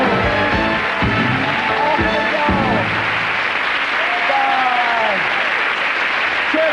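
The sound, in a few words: studio audience applause sending off guests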